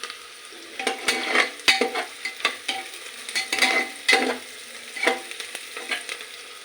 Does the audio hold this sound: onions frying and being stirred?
yes